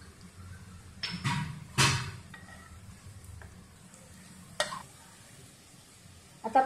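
Aluvadi (patra) rolls tossed with sesame seeds in a frying pan, a low sizzle under a few scraping stirs and clinks of a utensil against the pan, close and fairly quiet.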